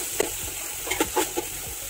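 Sliced onions for a Kerala-style kappa biriyani fry with a continuous crackling sizzle in a pan, while a few soft scrapes and stirring knocks come through clearly near the middle.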